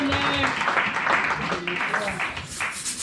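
A church congregation applauds together, a dense steady wash of clapping that fills the space, with voices mixed in throughout.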